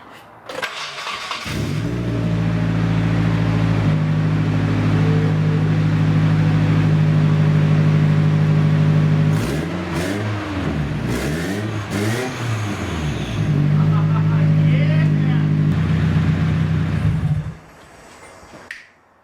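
Restored Nissan 240SX engine cranking and catching, then settling into a loud, steady idle before several sharp revs rise and fall, a stretch of high-rpm hold, and a sudden cut to quiet at the end.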